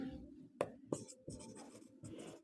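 Pen writing on paper during a Class 10 math lesson, a few short scratchy strokes with two sharper taps, close and quiet, with no talk.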